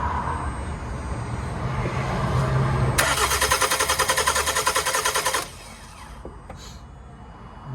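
A 2011 Toyota Avensis 2.0 D4D T270 diesel engine cranks rhythmically with the starter for a couple of seconds after an intake manifold and EGR carbon clean, then catches and settles into a low idle.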